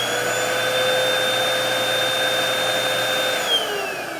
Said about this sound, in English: I'm going to go ahead and turn it on so you hear how this pump sounds.